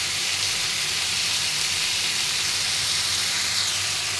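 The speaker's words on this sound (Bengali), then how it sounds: "খুবই অল্প আছে আমি করলাটাকে ভাজি করব।" Bitter gourd frying in an open, uncovered pan gives a steady, even sizzle and hiss that holds at the same level throughout, with no talk over it.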